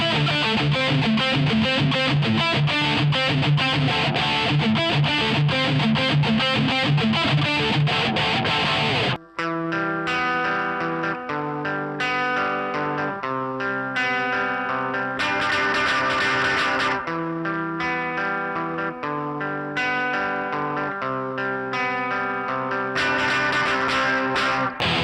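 Electric guitar run through effects units, with distortion and a touch of chorus and echo, plays Mixolydian box-mode scale runs and licks, dense and loud at first, then a brief break before cleaner, articulate phrases continue steadily to the end.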